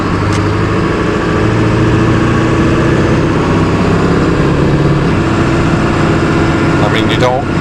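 Truck engine running steadily after an exhaust manifold repair, a continuous low drone heard from inside the cab with no clicking, while a person talks over it.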